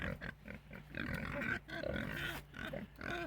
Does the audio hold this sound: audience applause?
no